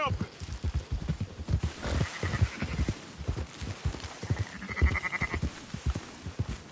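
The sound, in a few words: sheep bleating in video game Red Dead Redemption 2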